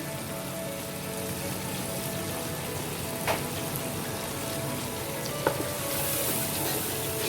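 Masala for chicken pulao fries in a pot over a high flame, giving a constant dense crackle like light rain, with a couple of sharp utensil clinks, moderately loud and uninterrupted by speech.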